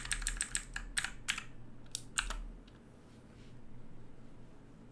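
Rapid keystrokes on a computer keyboard, in a burst of clicks that pauses and resumes once, fairly close, over a quiet hiss and low hum, with no talking.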